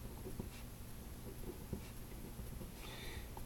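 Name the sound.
writing numbers on paper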